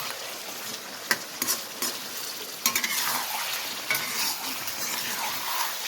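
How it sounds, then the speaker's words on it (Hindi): A kilo of chicken pieces sizzles and spits in hot oil for a karahi at a Pakistani food-street stall, with a steady crackling hiss broken by a few sharp metal clanks of a stirring utensil against the pan. "तो चिकन को 8-10 मिनट इसमें फ्राई करेंगे ऑयल में"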